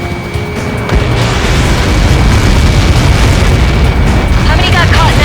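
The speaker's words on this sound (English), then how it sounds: "How many got caught in that explosion?" A massive in-game blast in the combat flight game Ace Combat 7 sets off a loud, sustained explosive rumble that roars steadily for several seconds, with a radio voice speaking briefly over it.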